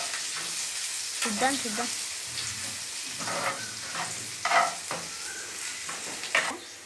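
Ivy gourd curry fries in a pan while a spoon stirs it, a soft continuous sizzle broken by scraping strokes, with a brief spoken word in the background.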